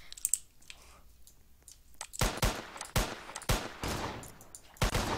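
Rapid bursts of gunfire shot into the air in the Roblox game Liberty County, loud clustered cracks repeating in quick volleys after a quieter opening.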